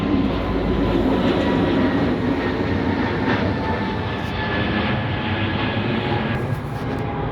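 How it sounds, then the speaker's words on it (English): An aeroplane passes over near Heathrow Airport, heard as a steady, loud, broadband roar that holds for several seconds with no talking. "So you might be wondering why I've just taken a little shot of an aeroplane there."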